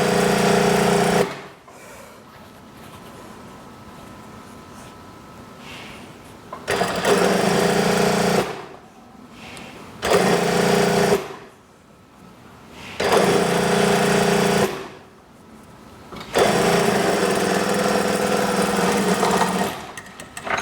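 A sewing machine stitching a kimono-style house dress runs in five loud bursts of rapid whirring, separated by short quiet pauses.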